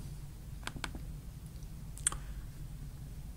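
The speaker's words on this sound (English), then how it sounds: "Then double click on that folder," A computer mouse double-clicks on a folder: two crisp, quick clicks close together, then a faint single click later over a low hum, close and quiet.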